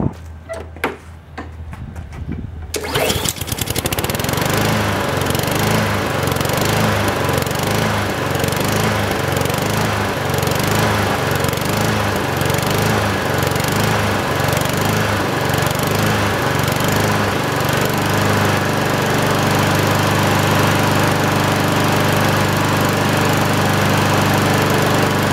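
A new Honda HRX217K5VKA walk-behind lawn mower fires on the first pull after a few quiet seconds, then runs at a loud, steady idle close by with no talk.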